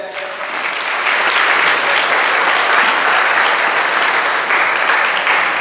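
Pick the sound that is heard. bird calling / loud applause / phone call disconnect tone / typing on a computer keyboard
loud applause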